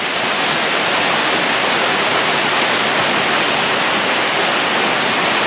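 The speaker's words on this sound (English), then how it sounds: "Up here at the top of the waterfalls, I think I found the source." Water pours steadily over a designed waterfall feature, a loud, dense, continuous rush that stays even from start to finish with no voices.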